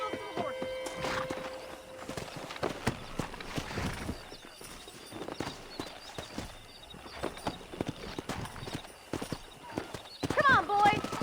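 Horses clip-clop and whinny during a horse-wrangling scene in a western video game, with hoofbeats irregular and fairly close, and a loud neigh near the end among game sounds.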